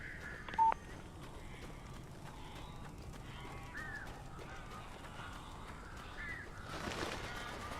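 Crows caw in a few short calls at moderate distance over a steady hum of background ambience, with one brief tonal beep near the start.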